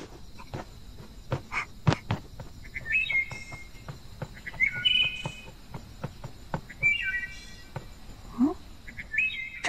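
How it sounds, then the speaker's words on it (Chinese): Birds chirp at night over a bed of insect and cricket sounds, with short repeated whistled calls at close range spaced a second or two apart, and a few sharp clicks in between. "这大晚上哪来的鸟鸣声啊？"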